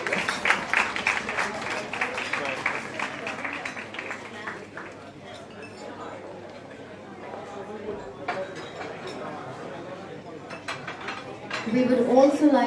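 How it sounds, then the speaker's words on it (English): Scattered applause from a modest crowd at a networking event, fairly brisk at first then thinning out, with a voice starting to speak at the end. "Can we have another round of applause, please?"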